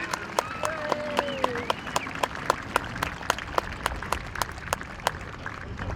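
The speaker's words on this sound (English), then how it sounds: "What about a round of applause for all the horsemen and ladies and gentlemen" Audience applause for heavy horsemen and their handlers at an autumn countryside show, a steady outdoor patter of many hands with sharp individual claps standing out, while a voice carries over the top.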